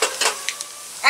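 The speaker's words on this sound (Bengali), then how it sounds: "তেল গরম হয়ে গেছে, অল্প পাঁচ ফোড়ন দিয়ে দিচ্ছি।" Panch phoron spices hitting hot mustard oil in a home kitchen pan, a brief burst of sharp crackling and sizzling with a few pops, close and loud.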